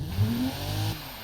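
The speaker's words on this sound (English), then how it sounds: "Let's give our new engine a listen." A new, heavily over-square straight-six engine in a car with a manual gearbox revs briefly, a loud, close, beefy rising and falling drone lasting about a second.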